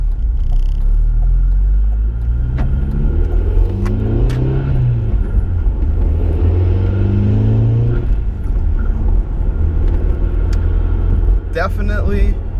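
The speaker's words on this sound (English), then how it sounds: "You definitely hear a lot more turbo noise and turbo spool with this kit." An Audi A4 fitted with a K04 turbo upgrade accelerates on a test drive, engine rising through the gears with a rising spool whine, heard from inside the car under steady talk.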